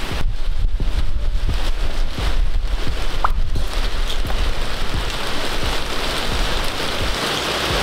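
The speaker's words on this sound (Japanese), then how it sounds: "もう雨の音がでかいよ。" Heavy rain pours steadily on an outdoor bonsai work area during a downpour, a loud, dense, continuous hiss with gusty wind noise, no talking.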